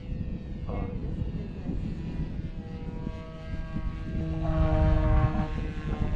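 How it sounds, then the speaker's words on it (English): A BlitzRCWorks P-40 Warhawk 1100mm RC airplane on its maiden flight drones steadily through an inverted pass, its engine whine rising in pitch and swelling louder as it nears, then easing slightly. "I'll see if I can do an inverted pass."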